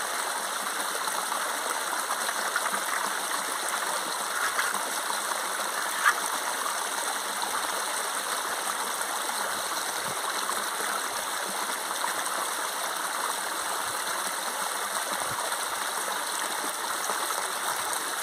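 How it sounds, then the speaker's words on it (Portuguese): Water flows steadily through a gold panning pan (bateia) at a simple gold-mining spot, a continuous close rushing and trickling wash with no breaks and no voices. "Presta atenção, a água entra por aqui e sai por aqui"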